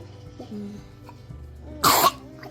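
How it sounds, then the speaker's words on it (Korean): A child gives one sharp, short cough after a few faint vocal sounds in a quiet room. "그 기침이 나왔대"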